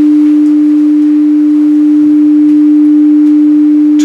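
A steady, pure 300 Hz tone plays continuously from a loudspeaker source in a measurement setup, loud and unwavering throughout, with faint background room noise and an occasional soft tick.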